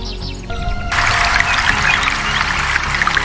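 A small bird in a children's cartoon story gives a few high chirps over a soft, trickling backdrop, faint and brief, with no voices.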